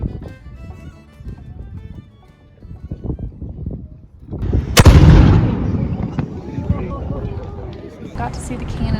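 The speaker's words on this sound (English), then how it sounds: "Got to see the cannon fire" A cannon fires at Fort Marion in St. Augustine with a light gunpowder charge, one sharp loud boom rolling out over crowd chatter and murmur that continues before and after.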